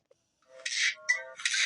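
Cat meowing close by, a short series of two or three bright, drawn-out cries in quick succession after a brief faint tap.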